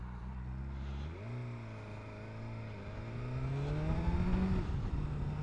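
A BMW S 1000 R motorcycle in dynamic mode accelerates hard, engine note rising through gears with a brief drop at a shift, then climbing again, close and loud.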